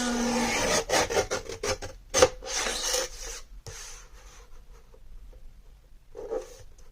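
Paper trimmer cutting a scrap sheet into three 4 by 12 inch strips for a pocket mini album, a run of close, dry rasping strokes with short pauses between cuts, no talking.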